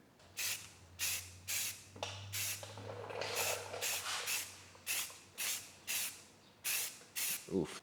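Spray can applying primer to a rusty car panel, a series of short regular hissing bursts with one longer spray in the middle, close and fairly loud, with a low hum underneath.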